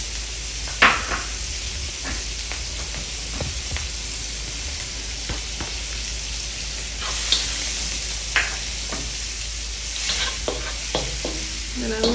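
Vegetables and onions saute in a stir-fry pan, giving a steady close sizzle punctuated by repeated utensil scrapes and clinks against the pan.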